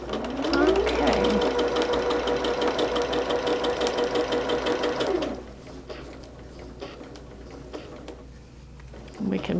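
Sewing machine stitching quilt fabric for a Christmas tree quilt car block, running loud and steady for about five seconds with a rising whir at the start, then stopping, leaving quiet handling noises.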